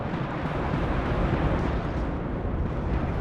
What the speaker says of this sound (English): And those rockets finishing off the Motostrałki.